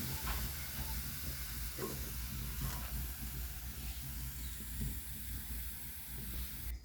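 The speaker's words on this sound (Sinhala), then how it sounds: "තෙල් ටික රත් වුණාම සෝය ටික දාලා බෙදලා ගමු" Soya pieces frying in hot oil, a steady close sizzle and hiss that carries on without a break and with no voices, in a simple Sri Lankan village-style home lunch cooking setting.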